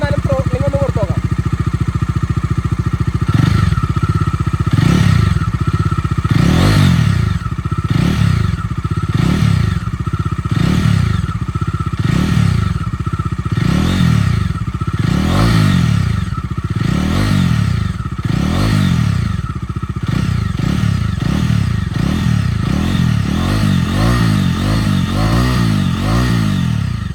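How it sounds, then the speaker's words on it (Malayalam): A used motorcycle engine is revved with the throttle again and again. Loud, close surges rise and fall in a steady rhythm over a rough idle. "ഞാൻ എന്നാലും ത്രോട്ട്ലിംഗ് ഒന്ന് കൊടുത്തു നോക്കാം."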